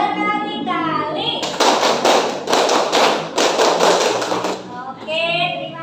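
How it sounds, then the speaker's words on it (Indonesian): A classroom of children breaks into rapid, continuous clapping, a loud sustained burst of many hands lasting several seconds, framed by the kids chanting together before and after. "tepuk tangan berkali-kali"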